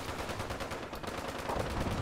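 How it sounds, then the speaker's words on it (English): Rapid gunfire in the online game Fallout 76, including a bloodied explosive railway rifle, crackles in dense overlapping bursts that run steadily through the whole stretch at a moderate level. "What are they shooting?"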